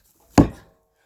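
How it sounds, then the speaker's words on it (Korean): An axe strikes pine firewood with a single sharp, loud thunk that decays quickly into silence. The wood is being split for a clay-room fire. "이렇게 도끼가 나무에 힘받아서 탕탕 튀기면은 한 번에 잘 갈라지는데"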